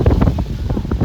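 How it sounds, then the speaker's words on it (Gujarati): Strong sudden storm wind, raising dust, roars and buffets against the microphone in loud, low, gusty rumbles, close and continuous for a brief moment. "બહુ જ અનહદ પવન આવે છે."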